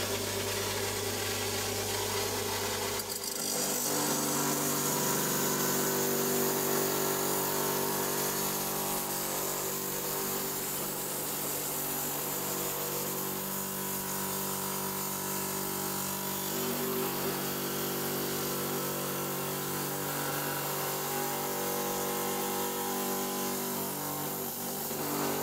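A power saw grinds continuously through hard rhyolite stone, a loud, dense, rasping cut that holds steady for the full length with no talking.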